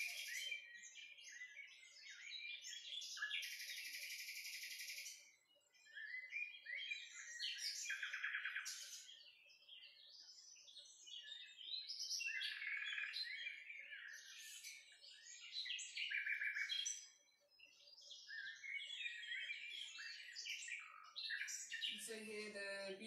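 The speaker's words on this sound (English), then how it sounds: "hear the beautiful sounds of birds singing, of nature" Birds chirp and sing almost continuously outdoors, several overlapping calls with short pauses between bursts, ending in a brief low thump.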